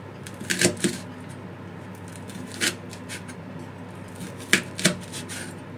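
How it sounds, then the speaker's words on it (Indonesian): Knife slicing red chili peppers on a cutting board, with short clusters of crisp chopping taps at irregular intervals against a quiet kitchen background. "cabai merahnya kita iris ya mirisnya sesuaikan selera kalian"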